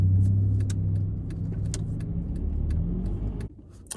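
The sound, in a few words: car driving off to be moved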